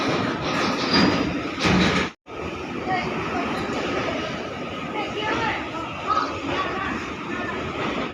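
A passenger train pulls in at Raniganj station platform with a dense, continuous rumble and rattle of rolling wagons. Someone talks over the noise, and it briefly cuts out once.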